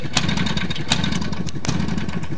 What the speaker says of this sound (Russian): завести, прогреть хорошенько и понижать максимум холостые обороты